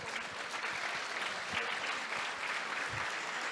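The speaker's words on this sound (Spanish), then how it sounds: "Den una ofrenda de palmas a Jesús." A church congregation breaks into continuous, dense clapping that stays loud and even for a few seconds.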